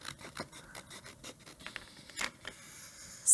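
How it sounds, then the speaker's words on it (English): Scissors snip through paper in a run of quick, light crisp cuts, close by, ending with a louder sharp snip. "And then I can just use my scissors to trim this side."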